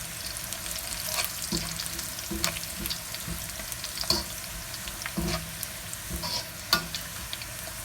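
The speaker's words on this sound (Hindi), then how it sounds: "प्याज हल्की हल्की ब्राउन हो चुकी है। अब हम इसमें डाल देंगे जीरा, फिर हम इसमें डालेंगे गोल मिर्च" Browned onions sizzle steadily in hot oil with cumin and black peppercorns for a Pakistani karhi pakora, broken by a handful of sharp stirring scrapes and clatters close by, with no voices.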